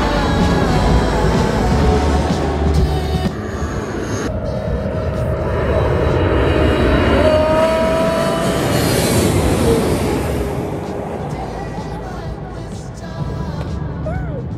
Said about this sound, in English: We wanted to have a closer look at the airplane's landing